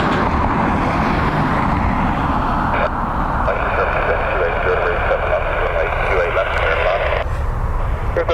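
Airliner in rugby livery turning on the ground at Dublin Airport, a loud, sustained engine drone with a shifting whine, heard under someone talking close by.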